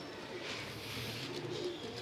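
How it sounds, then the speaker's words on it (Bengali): Caged pigeons, the females of a loft flock, coo softly and steadily at a low level with no talking over them. "এই খাঁচার কবুতরগুলো দেখেন"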